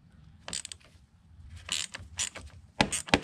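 Ratchet wrench loosening the 10 mm nut on the negative battery terminal of a Nissan Rogue, short bursts of rapid clicking in three or four separate spells with pauses between, close and fairly loud.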